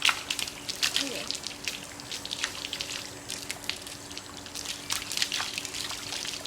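A garden hose sprays water to rinse mud off outdoors, a soft steady splashing and trickling under children's voices and talk.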